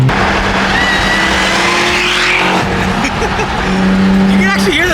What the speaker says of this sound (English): You can actually hear the supercharger.